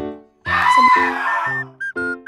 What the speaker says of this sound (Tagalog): sobrang daming kambing